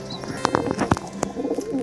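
Close, loud pigeon coos from a kept domestic pigeon, several short throaty calls in quick irregular succession with soft rustling between them.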